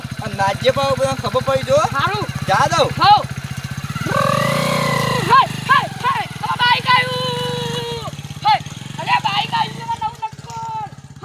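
A new motorcycle's engine runs close by, idling and revving in rising and falling surges, with a longer sustained rev midway, while people talk loudly over it.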